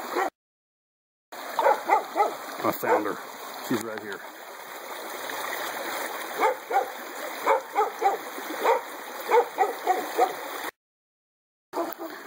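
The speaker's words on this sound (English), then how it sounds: "nobody's come running down the hill to see what their dogs are barking at" Dogs bark in repeated bursts at a distance over the steady rush of a nearby stream, while a person speaks close by.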